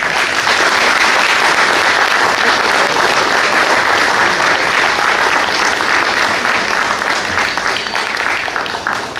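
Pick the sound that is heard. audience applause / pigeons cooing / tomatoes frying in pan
audience applause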